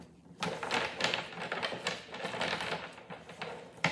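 Tarot cards shuffled by hand, giving a dense run of rapid papery riffles and flicks that continues steadily, close and moderately loud, with no talking.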